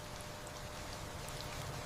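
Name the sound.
rain falling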